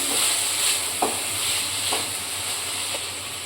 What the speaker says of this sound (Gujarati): એ નાખીશું આપણે મીડિયમ ગેસ ઉપર થોડીક વાર સાતશું